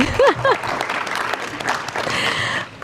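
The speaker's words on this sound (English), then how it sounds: "Before we get started, somebody wanted to clap." Audience applause at a university anniversary celebration for a lifelong learning program, a short burst of clapping from a room of people, moderately loud, with a voice speaking over the start.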